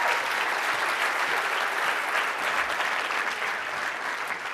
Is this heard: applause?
yes